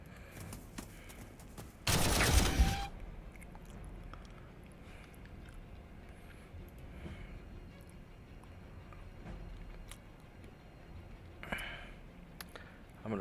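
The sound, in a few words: gunfire in video game Warhammer 40K Armageddon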